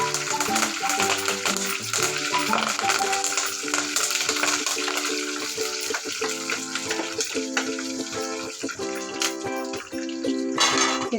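Curry leaves sizzle and spit in hot oil while onion chutney is being made. A dense, continuous crackle runs throughout, loud and close, over steady kitchen background tones with no talking.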